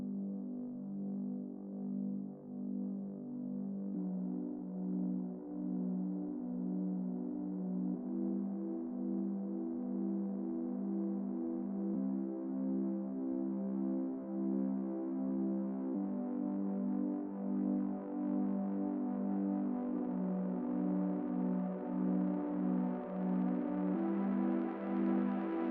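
A heavily distorted synthesizer tone from two instances of Diva, one panned hard left and one hard right, holds a dense buzzing sustain that shifts pitch in stepped changes and grows gradually brighter over nearly half a minute.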